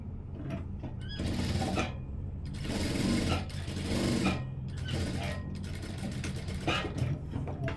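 A sewing machine stitching the side seam of a gown frock, running in bursts of mechanical whirring and clatter with short stops between runs, close and continuous.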